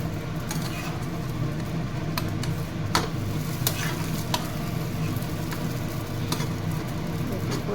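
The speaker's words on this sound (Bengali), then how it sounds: "আমার পরোটা হয়ে গেছে, এবার তাওয়ায় দিয়ে দেবো" Paratha sizzling in oil on a hot tawa, a steady close frying hiss with occasional sharp crackles and clicks, alone without talk.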